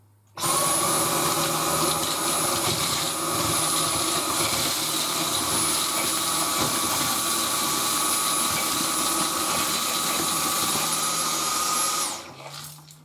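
A Dyson V10 Total Clean cordless vacuum runs on suction mode 2 with a loud, steady high-pitched whine and airy roar, switching on abruptly and winding down near the end.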